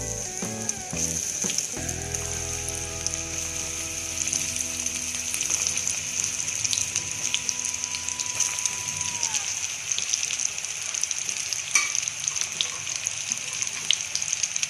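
Chicken pakora fritters frying in hot oil over low heat, a steady loud hissing sizzle with some bubbling, a few faint clinks early on, continuous throughout.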